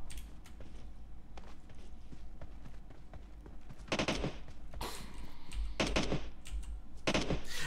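Gunfire in the mobile battle-royale game PUBG Mobile, played on PC: sharp bursts of shots crackle over a steady game ambience, sparse at first and then denser clustered volleys in the second half.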